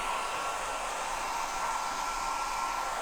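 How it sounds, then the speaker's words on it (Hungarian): A hair dryer blows onto freshly applied decorative wall plaster, a loud, steady whooshing roar with an even tone that holds without change throughout, with no voices. "Sajnos most nincsen néma hajszárító"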